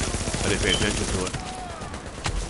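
Gun turrets in The Division fire in a rapid burst of close, rattling shots, with a voice talking over the gunfire.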